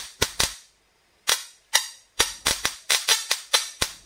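A Tesla coil's buzzing electric crackles burst in short bursts, loud and close, forming a choppy rhythmic pattern playing a song as a crude tune, with brief pauses between notes.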